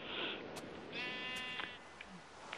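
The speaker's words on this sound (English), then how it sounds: "Sheep!" A Minecraft sheep bleats a couple of times, a short wavering baa standing out over faint background game ambience, with a few soft clicks around it.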